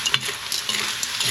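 A spoon stirs Filipino tabagwang (pisipis) shellfish frying in a hot pan, with a steady sizzle and a few scraping stirs, close and alone.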